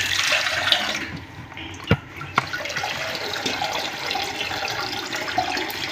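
Water poured into a cooking pot for ugali, a steady liquid splash and trickle running throughout with a couple of sharp knocks from the pot, close by in a home kitchen.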